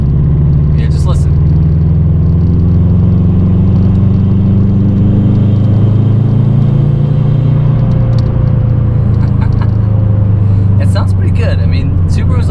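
A 2013 Subaru WRX hatchback rumbles steadily from inside while driving, a loud continuous low drone with slowly shifting pitch as the engine pulls, a few brief clicks and knocks over it.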